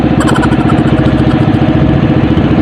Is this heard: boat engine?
yes